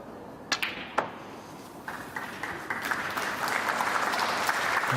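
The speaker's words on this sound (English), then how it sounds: "Applause for frame ball." Applause from a snooker crowd at a Northern Ireland Open billiards match greets frame ball, starting with a few sharp claps and building into steady, sustained clapping that grows slightly louder toward the end.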